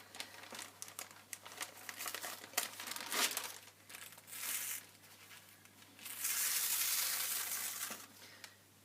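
Baking parchment crinkles and crackles as it is peeled away from fused silk cocoon strippings, close and quiet, with irregular rustling bursts and a longer dense crackle near the end.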